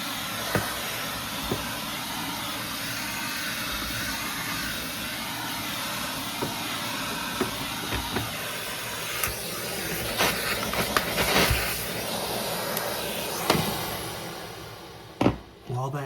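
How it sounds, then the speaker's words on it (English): A vacuum cleaner gently clears dust from refrigerator coils with a steady, loud hissing drone, broken by a few brief knocks and bumps near the end. "All you're doing is gently vacuuming this off."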